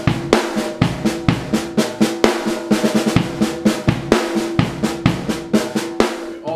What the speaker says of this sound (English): The bridge opens up with a 5-stroke roll